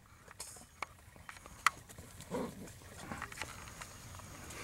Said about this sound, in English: We got quite a dog ruckus this morning.